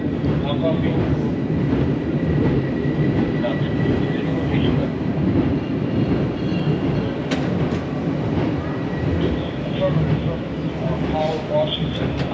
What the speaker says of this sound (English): In the tram to Fisherman's Wharf in San Francisco.